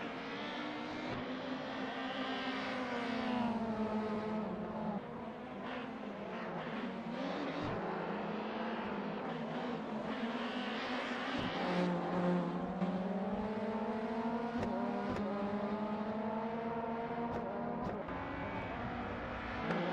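Touring cars racing at Snetterton in the BTCC, a Volvo among them, with engines wailing steadily throughout, rising and falling as they rev and shift, loud and continuous with no voices.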